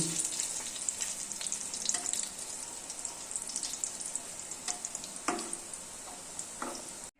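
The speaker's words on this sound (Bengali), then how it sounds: "এই যে তেল গরম হয়ে গেছে, তেলে কোপ্তাগুলো ছেড়ে দিচ্ছি।" Koftas frying in hot oil sizzle steadily and softly, with small pops and bubbling bursts scattered through the sizzle.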